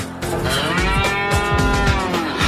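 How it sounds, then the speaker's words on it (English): A cow moos loudly and close by in one long, drawn-out, tonal call that wavers in pitch and holds for over two seconds. "That's a cow."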